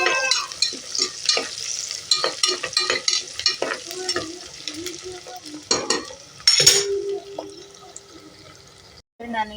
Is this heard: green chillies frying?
yes